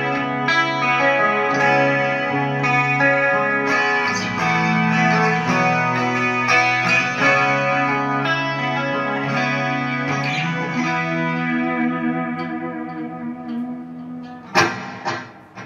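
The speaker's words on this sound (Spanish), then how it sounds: "Ahí podemos escuchar el delay que estoy usando, que es el efecto ping pong delay." Electric guitar notes bounce back and forth in repeating 500-millisecond ping pong delay echoes from an Axe-Fx Ultra that trail off, with a sharp percussive hit near the end.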